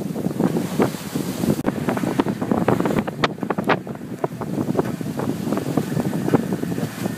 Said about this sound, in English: the wind just got up another couple of notches